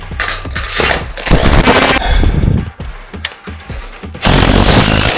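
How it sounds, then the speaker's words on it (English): Hammer drill boring into an old brick wall, loud rattling bursts of impact drilling that stop and restart in several short runs, close by with no voices. "Need to drill deeper."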